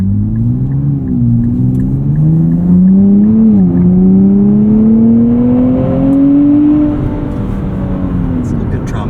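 A 2024 Nissan Z NISMO V6 revs loudly while driving, its engine note rising steadily and droning under continuous talk from people in the cabin.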